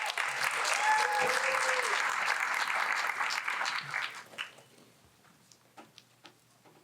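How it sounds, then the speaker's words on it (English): An audience applauds a presenter at a three-minute thesis finals, dense clapping that holds steady for about four seconds, then thins into a few scattered claps and fades out. "Let's give him a round of applause"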